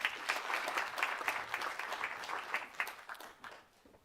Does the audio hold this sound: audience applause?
yes